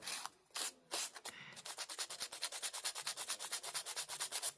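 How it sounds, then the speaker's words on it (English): Rapid rhythmic rubbing of a small sanding block along the edge of washi tape, a few slower strokes first, then a fast steady back-and-forth scratch, close and soft. "I like to use my tiny little sanding block or my sander to sand the edges of my washi"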